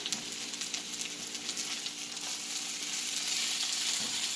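Potatoes fry in a pan on a home stove for Sunday breakfast, giving a steady, bright sizzle with faint crackles throughout, close by and without talking.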